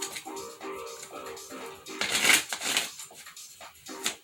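Tarot cards being shuffled at close range: soft rustling under a voice early on, then a louder riffle burst midway and a brief final flutter near the end.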